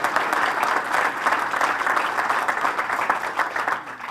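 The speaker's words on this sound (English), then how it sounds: "let's give Tom a round of applause for his work" Steady round of applause from an outdoor crowd at a park groundbreaking ceremony, dense continuous clapping for about four seconds with no talk over it.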